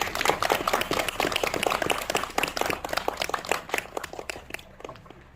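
A crowd applauds at a temple gate plaque unveiling ceremony at a Korean Buddhist temple, many hands clapping in a dense, steady patter that thins out toward the end.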